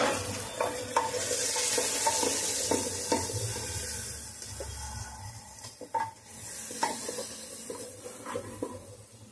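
Turmeric, garam masala and red chili powder fry in a pan for vegetable pulao, giving a close, steady sizzle broken by repeated scraping clicks of a spoon stirring the spice mixture, with no voices.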